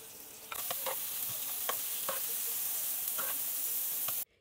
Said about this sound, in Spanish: Poner a dorar las papas y las zanahorias. Pero un poquito de la salsa de las enchiladas.